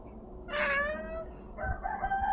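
A cat meows twice, a drawn-out first call and then a shorter second one, fairly close against a quiet background.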